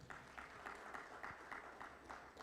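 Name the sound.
audience applause for a Reverend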